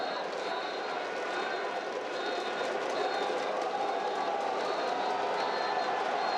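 A baseball stadium crowd at an Australia versus Chinese Taipei game roars steadily as the final out nears, a dense sustained cheer from far off with a commentator's voice underneath.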